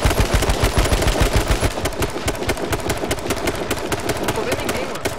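Rapid automatic gunfire in a multiplayer shooter video game, loud dense bursts of shots rattling almost without pause, with speech mixed in.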